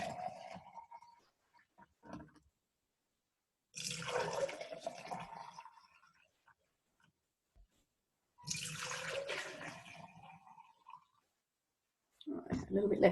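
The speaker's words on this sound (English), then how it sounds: "I find it easy enough just to pour from the bowl" Homemade yogurt poured from a bowl in a home kitchen, giving two soft, liquid splashing pours a few seconds apart, close and quiet, with brief handling noises in between.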